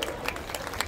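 Applause at the closing day of an Uttarakhand Mahotsava cultural festival in Lucknow, following a devotional Om Namah Shivay performance: a dense, steady patter of many hands, moderately loud and continuous, with no voices over it.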